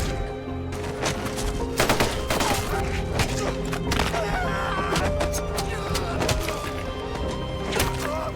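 Rapid bursts of gunfire crackle and pop over a dense, noisy war-film battle soundscape, with sharp shots scattered throughout.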